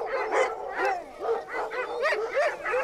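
Several sled dogs bark and yip in rapid, overlapping bursts, close and loud, a steady excited chorus with no talk.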